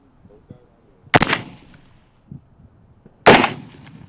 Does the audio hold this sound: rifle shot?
yes